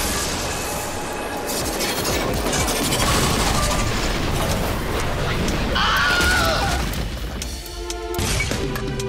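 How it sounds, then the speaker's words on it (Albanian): Cartoon battle effects for a giant cosmic explosion attack in a dubbed animated series: dense, loud crashing blasts and booms roll on continuously, with metallic whooshes and ringing tones layered on top. "Shpërthim kozmik."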